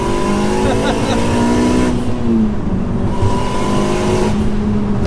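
A turbocharged Honda FN2 Type R, tuned to around 450 hp, accelerates hard with a loud, steady engine note and rising pitch, heard from inside the car over continuous road noise.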